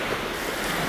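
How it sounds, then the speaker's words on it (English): Ocean waves wash in a continuous, loud, broadband roar, with no break over the short stretch and no voices. "I watch the waves in motion and in still"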